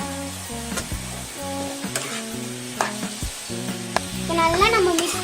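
Cabbage and chicken stuffing seasoned with pepper frying in a pan, a bright continuous sizzle punctuated by sharp spatula scrapes and taps at irregular intervals, rising louder toward the end.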